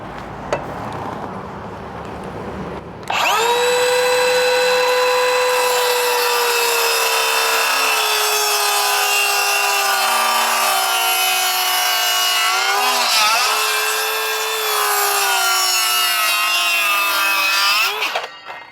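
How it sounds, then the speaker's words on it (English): A hand or power saw cuts through a wooden jack rafter during roof framing, a loud sustained rasping whine that starts abruptly after a few seconds of quiet and runs steadily to the end, close up with no talk. "I'll just cut this one off for you to show you what I mean"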